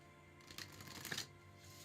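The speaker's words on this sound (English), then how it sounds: "So I'm shuffling these decks 7 times." A deck of cards being shuffled, heard as one soft riffle burst under faint background hum, quiet and close.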